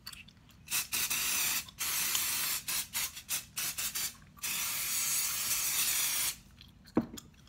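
Dry shampoo sprayed onto a wig in repeated close, loud aerosol bursts of varying length, separated by short pauses, with a final brief spray near the end.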